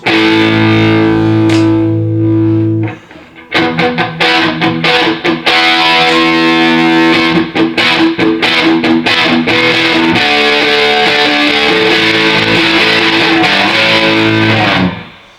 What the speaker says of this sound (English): If I boost the gain up to full, this is on Overdrive 1, then real sort of heavier classic rock tones